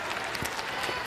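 Crowd applauding at the World Men's Curling Championship after Japan's win over Canada, a steady patter of many hands clapping in an arena, with a voice briefly audible.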